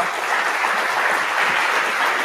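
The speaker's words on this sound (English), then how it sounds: "Give them a round of applause." A round of applause from the audience at a talk on GA4 analytics: a loud, dense, continuous clatter of many hands that holds steady throughout with no voices.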